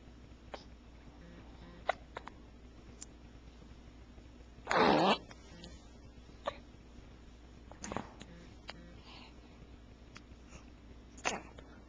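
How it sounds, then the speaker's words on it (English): A small child gives a single hiccup, short and fairly close, in a quiet room with a few faint clicks and breaths before and after it. "Get rid of these hiccups so we can put you back to bed."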